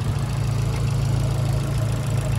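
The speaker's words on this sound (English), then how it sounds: "the engine has been running since we started" A car engine idles close by with a steady low rumble and an even rhythmic pulse throughout, with no talk.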